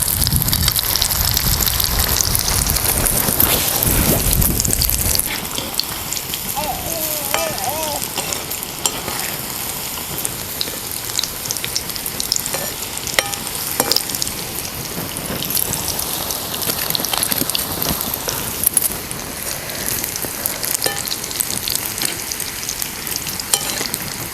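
Ridge gourd fritters (bhaji) deep-frying in oil over a low flame, a steady soft sizzle and bubbling crackle that runs alone throughout, with a louder burst of frying noise at the start.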